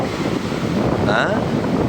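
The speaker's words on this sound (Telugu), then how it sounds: "సముద్రానికి అస్సలు లేనిది మౌనం ఎప్పుడు శబ్దం చేస్తూనే ఉంటుంది" Sea waves and steady wind at the shoreline make a continuous broadband roar that stays loud and even throughout, with no voices.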